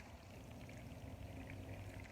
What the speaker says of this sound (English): So I'm pouring in my water exactly the same amount.